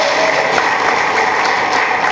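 An audience at a community gathering claps to welcome women onto a stage, a dense, steady burst of applause filling the space, loud and continuous with no speech over it.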